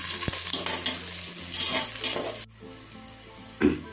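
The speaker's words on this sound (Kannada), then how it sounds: "ಇವಾಗ ಇದನ್ನ ಸ್ವಲ್ಪ ಲೈಟಾಗಿ ಫ್ರೈ ಮಾಡೋಣ." Green chillies and onions sizzle loudly in hot oil in a close pan, with steady frying and stirring that briefly drop off before a final spatula scrape.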